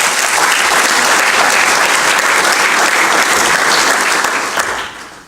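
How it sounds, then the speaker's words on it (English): A conference audience at a world summit gives a big round of applause. Loud, dense clapping fills about five seconds, then tapers off near the end. "I want to invite all of us to really celebrate them with a big round of applause."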